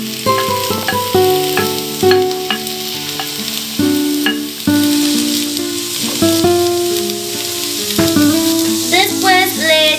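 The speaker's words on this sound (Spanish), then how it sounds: "le vamos a echar la cebolla cabezona." Onion frying and stirred in a pan of oil, a loud close crackling sizzle with regular scraping strokes, layered under background music.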